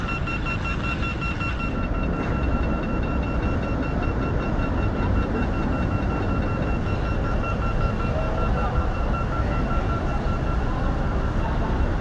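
A tram rumbles steadily at the busy Helsinki Central railway station, a dense continuous roar of wheels and motor with faint tonal whine, close and loud without pause.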